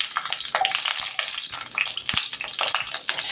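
Brinjal pieces sauté in a hot pan for a sour eggplant curry, a continuous crackling sizzle broken by scraping stirs and occasional sharp clinks, close and fairly loud with no talking.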